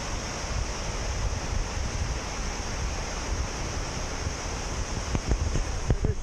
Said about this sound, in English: it's a nice whitewater river.